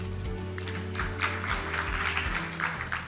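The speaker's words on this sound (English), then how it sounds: "Please give them a round of applause." Audience applause at a forum on CCUS (carbon capture) policy: steady clapping from a hall crowd throughout, mixed with a low musical hum underneath.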